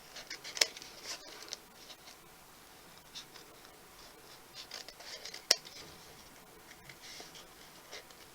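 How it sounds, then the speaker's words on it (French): Scissors snip out a paper motif in a quiet room, with faint scattered crisp cuts, light paper rustles and a couple of sharper clicks, and no talk. "Je vais prendre mes ciseaux et je vais détourer le motif."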